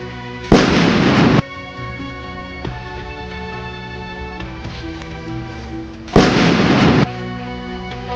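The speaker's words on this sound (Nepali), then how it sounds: "अब जङ्गलमा त यत्रो यत्रो बम पड्काउँदो रहेछ" Loud bomb blasts in a jungle in a Nepali movie scene: two heavy explosive bursts, about a second each, set against a steady tonal music bed.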